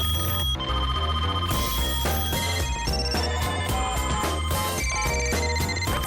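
A home telephone rings in a loud, repeating electronic pattern set over a busy musical backing, continuous and close throughout, with no voices.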